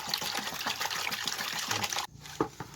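Medicinal leaves are washed by hand in a basin, water sloshing and trickling in quick irregular splashes close by, pausing briefly before a few more splashes.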